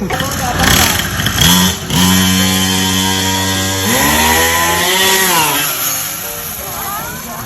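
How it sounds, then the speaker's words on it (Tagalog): A motorcycle engine revs hard and loud in repeated rising and falling bursts, its harsh buzzing tone sweeping up and down over about seven seconds as voices talk over it. "Tama na, baka masira yung motor ko."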